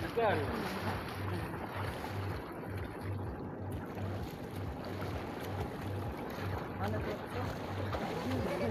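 A motor trawler boat on the Padma River chugs steadily with a regular low pulsing throb, water and wind noise around it, and voices talking under the engine.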